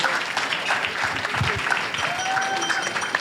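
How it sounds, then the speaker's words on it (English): A wedding reception audience at Panorama House gives a big round of applause after the speeches, with dense, steady clapping from many hands filling the room throughout. "Give them a big round of applause."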